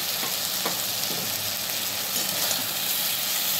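Taro stolons fry in a pan with a mustard, poppy seed and green chili paste, giving a steady broadband sizzle with a few faint stirring scrapes.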